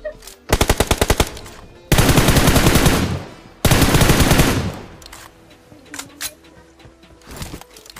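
Automatic gunfire in the mobile battle royale game BGMI, with a sharp rapid burst followed by two longer sustained sprays, then scattered single shots trailing off in the distance.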